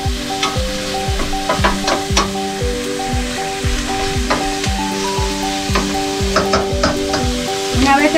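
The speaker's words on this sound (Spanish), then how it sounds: "Entonces ahora vamos a poner a freír la cebolla." Onion frying in a pan for Colombian arepas, a bright continuous sizzle with frequent scraping stirs and clacks, close and loud, over steady tonal background tones.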